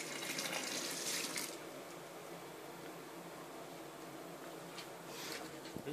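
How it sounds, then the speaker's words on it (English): Clementine juice, a liter of it, pours into a homebrew IPA with a hop spider in place, a steady close splashing stream that is loudest at the start and rises again near the end. "Putting in 1 liter of Clementine juice."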